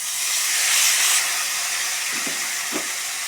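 Tomato dropped into hot oil with fried ginger for a simple paneer sabji hisses in a loud, steady sizzle, with a couple of faint low knocks near the end.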